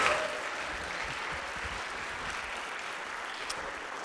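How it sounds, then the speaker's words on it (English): Audience applauding a string quartet at a spring school concert: dense, steady clapping from a sizable crowd, moderately distant and fairly soft, holding even throughout with no talk. "Let's have one more round of applause for the Mills String Quartet."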